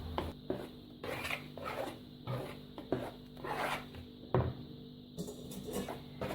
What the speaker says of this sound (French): Alors, il faut mélanger délicatement.